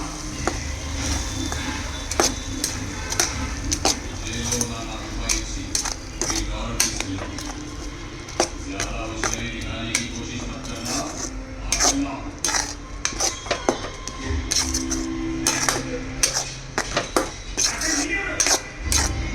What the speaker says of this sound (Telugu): ఇది ఆయిల్లో మంచిగా ఫ్రై అవ్వాలండి